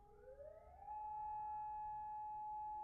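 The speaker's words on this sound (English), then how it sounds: "the alarm is going off to test the alarm system outside for tornadoes in Oklahoma" An outdoor tornado warning siren in Oklahoma sounds during a test, its steady wailing tone rising in pitch over the first second and then holding loud and sustained over low background rumble.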